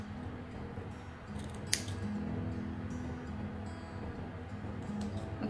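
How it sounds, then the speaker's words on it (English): Scissors snipping fabric in a small V-shaped notch while making a double-sided reusable face mask, a quiet close cut with one sharp snip standing out against a soft steady background. "Before you start your stitching, you have to cut from the top over here in a V shape."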